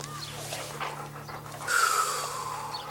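A dog pants in a film scene, its rapid breathy puffs close and steady under a low soundtrack hum, with a brief whimpering snort partway through.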